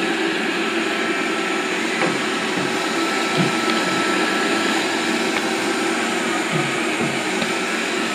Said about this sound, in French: Alors l'aspirateur détecte le bord de la table.